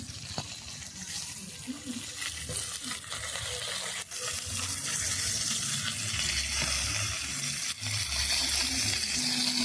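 Rupchand fish and potatoes fry in hot oil with a steady, dense sizzle that runs throughout, broken by a few sharp clicks and light utensil scrapes.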